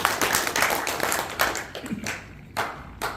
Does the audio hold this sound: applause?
yes